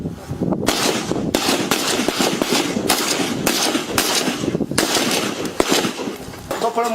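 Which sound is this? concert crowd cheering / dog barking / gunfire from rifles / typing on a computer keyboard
gunfire from rifles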